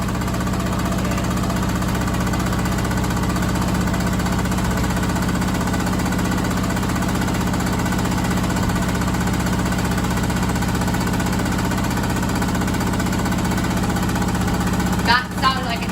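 A Candy SmartTouch washing machine pounds through an extremely unbalanced final spin, a loud, continuous rattling, jackhammer-like vibration that stays steady and close throughout.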